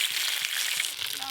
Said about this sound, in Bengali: প্রথমে খিচুড়ির জন্য আলুগুলো হালকা করে ভেজে নেব।